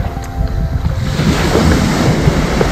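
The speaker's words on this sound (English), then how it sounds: "you really hear the waves all day long" Ocean waves wash steadily onto a beach at an all-inclusive resort, a loud continuous surf roar with wind buffeting the microphone and no voices.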